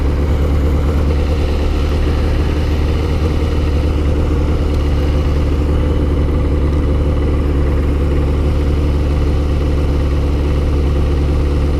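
A Kawasaki ZZR600 motorcycle engine idles through its exhaust, a steady, loud low rumble that stays even throughout with no talking.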